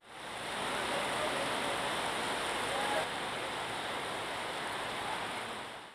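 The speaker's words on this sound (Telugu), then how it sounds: "కాకినాడ జిల్లా ఉప్పాడ తీరం వద్ద సముద్రం అలల ఉధృతి పెరిగిపోయింది" Surging sea waves on the Uppada coast in Kakinada district make a continuous broad roar of surf, steady and loud throughout.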